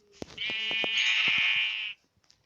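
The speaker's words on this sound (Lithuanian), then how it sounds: "Avis. Iš tikro avis." A sheep in a survival video game gives one drawn-out, loud bleat lasting over a second, preceded by a few quick clicks and followed by near silence.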